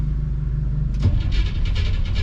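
A 1957 car engine fitted with FiTech fuel injection cranks with a low, steady churn, then fires about a second in and settles into a rough, rumbling idle, loud and close.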